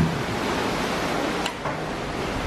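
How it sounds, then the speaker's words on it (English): Ocean waves heard from a cruise ship balcony on Symphony of the Seas form a steady broad rushing wash, moderately loud with some wind noise and no talking. "Look at that ocean."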